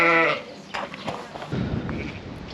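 Sheep and lambs in an indoor lambing shed, with a loud harmonic bleat at the start followed by fainter, scattered animal sounds and shuffling in the background.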